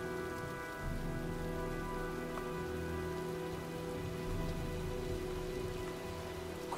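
A rainstorm in the video game Heavy Rain: steady heavy rain on surfaces with dense drops, a continuous even wash with no voices over it.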